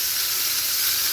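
Beef brisket sizzles in a lidded frying pan as a steady, close hiss with no breaks.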